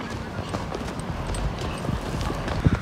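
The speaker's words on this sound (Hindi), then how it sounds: "ये हम लोग अपनी घोड़ा सवारी कर रहे हैं" Hooves clip-clop steadily while a horse is ridden outdoors during riding practice, a loose continuous rhythm of soft thuds over background noise and faint voices.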